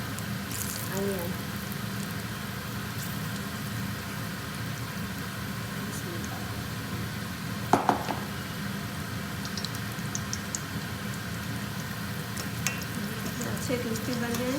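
Vegetable pakoras made with onion, potato and eggplant frying in a pan of hot oil, a steady close sizzle running throughout with one brief clatter partway through.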